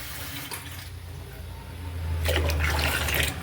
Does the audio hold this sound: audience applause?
no